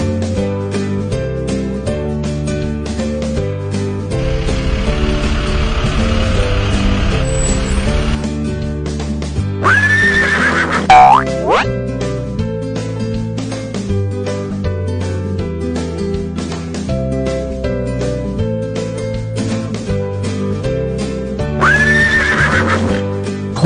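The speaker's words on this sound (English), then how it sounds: "Horse." A horse whinnies loudly twice, high rising cries over a steady musical backing, with a burst of noisy rustle earlier on.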